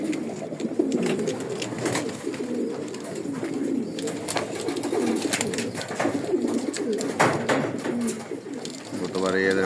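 Stock breeding pigeons kept in a loft coo repeatedly, with soft overlapping calls close by and fairly loud throughout, alongside flapping and shuffling.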